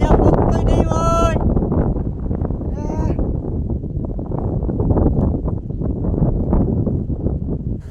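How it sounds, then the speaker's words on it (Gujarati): Gusty wind on a hilltop buffets the microphone with a heavy, rumbling roar throughout, while a person speaks briefly at the start. "પવન બહુ ઉડે છે"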